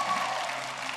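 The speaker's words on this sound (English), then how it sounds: "Clap your hands and give God some praise." A congregation at a faith conference claps hands in praise, a dense, even wash of applause that holds steady for about a second.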